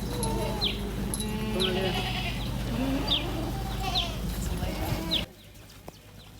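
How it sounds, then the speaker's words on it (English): A herd of goats pours out of a pen on a farm in Namibia, many overlapping bleats near and far over a steady rumble of hooves and movement, ending abruptly as things quiet down. "we're going to open the gate and all the goats are going to come out"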